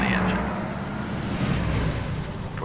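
A heavy truck engine in the American Truck Simulator game strains and struggles to keep running. It makes a dense, continuous rumbling roar throughout, with a voice audible over it.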